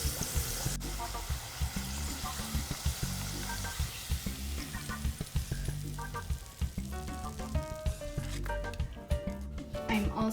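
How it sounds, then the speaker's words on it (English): Tortillas frying in hot oil for green chicken enchiladas give a steady, close crackling sizzle, joined by occasional clatter and scraping of handling in the pan. "You don't want them too crispy, but you also want them fried enough"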